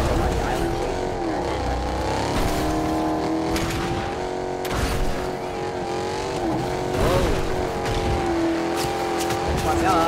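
A car in the video game Fortnite drives with a steady, loud engine drone that rises and falls in pitch, with bursts of tire noise, and a person talks over it.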